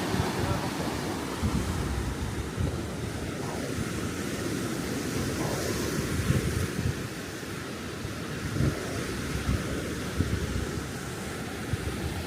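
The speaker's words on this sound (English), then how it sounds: "So watching the water coming in, hitting those rocks." Sea waves roll in and break against rocks along the coast at Calpe, Spain, a steady close wash of surf with wind noise across the microphone and periodic swells rising and falling.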